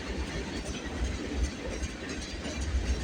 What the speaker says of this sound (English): This might be an extra run of some train of some sort.